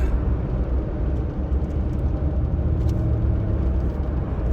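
Heavy morning traffic on Briley Parkway East in Nashville makes a continuous broadband roar and whir of passing vehicles, steady and fairly distant, with no talking.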